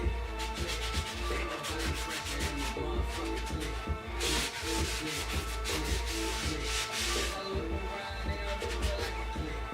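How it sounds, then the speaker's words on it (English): Cloth rubbing and wiping across the face of a front brake rotor on a 2002 Ford Focus after a spray of brake cleaner, a steady close scrubbing texture running throughout with brief louder swipes, no talk. "we're going to wipe off the front of the brake rotor"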